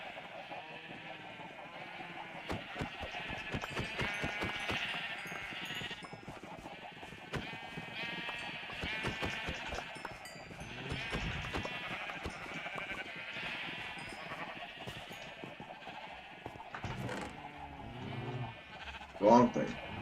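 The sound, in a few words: sheep bleating in video game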